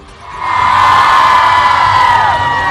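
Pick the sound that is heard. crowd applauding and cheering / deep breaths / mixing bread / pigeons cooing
crowd applauding and cheering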